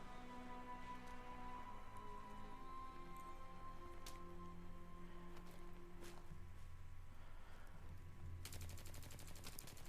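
Rapid bursts of G18 pistol fire in Battlefield 3 on the Damavand Peak map, clustered cracks over a steady background of game noise and tonal hum, with a dense flurry of shots near the end.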